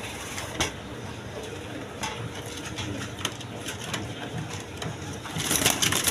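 Soft pigeon coos surface now and then from a seller's loft of breeding pairs, set against a dense, rustling background with brief knocks and a louder scuffling burst near the end; no one speaks.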